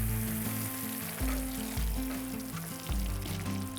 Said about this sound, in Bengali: মশলাটা কম সময়ে কষিয়ে নিতে এটাকে ঢাকা দিয়ে দিচ্ছি।